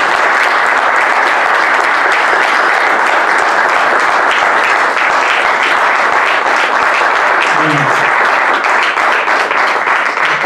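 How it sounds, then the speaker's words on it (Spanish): Loud, sustained applause from a large audience at a club board meeting announcing changes to its directors, steady dense clapping filling the whole stretch without a break. "os pediría a todos que les tributemos un fuerte aplauso."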